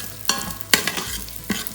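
Cracked wheat (dalia) roasting in ghee, a low frying sizzle broken by three sharp stirring scrapes from a spoon against the pan.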